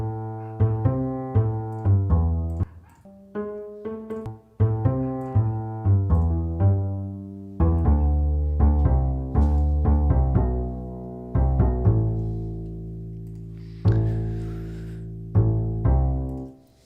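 Arranged upright bass doubled by a plucky muted-string layer, playing a rhythmic line of short plucked notes with a steady, bouncy pulse and no voices.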